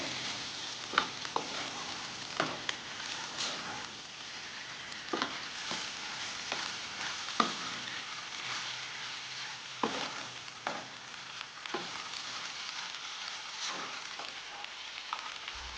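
Fenugreek leaves and okra frying in a pan as a dry curry with masala, stirred steadily so a constant sizzle runs under repeated sharp scrapes and clicks of the spoon against the pan.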